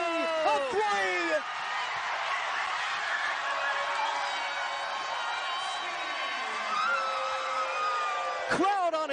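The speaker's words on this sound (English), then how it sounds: "Crowd on its feet!" A college basketball arena crowd roars after a three-pointer in a Florida versus Stony Brook game, a sustained loud cheer with screams and whoops, punctuated by sharp sneaker squeaks.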